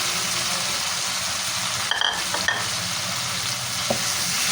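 Chicken tikka frying in a tomato masala in a kadhai, a loud continuous sizzle close by with occasional clacks and scrapes of a spoon stirring the pieces, and no one speaking.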